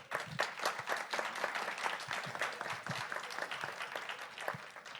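Applause from a congress audience at a culture panel, steady and moderately distant, with individual claps standing out over a few seconds.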